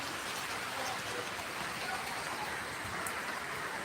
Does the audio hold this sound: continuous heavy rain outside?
yes